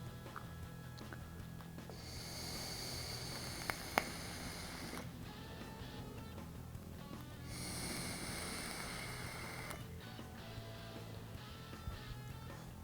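Long inhales drawn through an OBS Engine sub-ohm tank with the adjustable airflow wide open, two sustained airy hissing draws with a pause between, close and steady, no talking.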